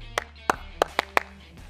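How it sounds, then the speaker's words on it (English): A few slow, sharp claps in a loose rhythm, five distinct hits spaced evenly, sounding close and somewhat sparse, as from a small group being urged to clap along. "come on, clap with me"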